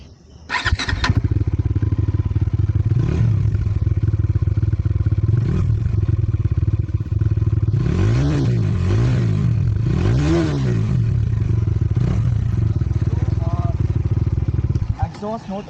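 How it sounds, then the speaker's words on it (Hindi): A Bajaj Dominar 400 motorcycle starts up and idles with a loud, close exhaust burble, then is revved several times in rising and falling swells before settling back to idle. "और अब मैं आपको सुनाऊँगा इसका एग्जॉस्ट नोट।"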